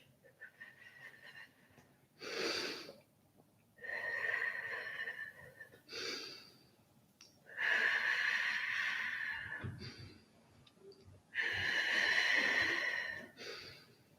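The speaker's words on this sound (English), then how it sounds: "breathing out as you push." Heavy breaths pushed out during Pilates donkey kicks to the ceiling, as long, close, airy exhales with a slight wheeze, repeated in slow cycles separated by quieter inhales.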